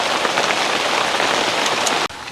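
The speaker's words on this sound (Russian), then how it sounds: "Закончится, не закончится дождь." Steady rain falls at a riverside fishing camp on a big river, a dense, even patter close by that stops abruptly near the end before a softer continuation.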